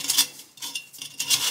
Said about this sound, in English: I'm going to take a little sandpaper now and go on the inside and make sure there's no burrs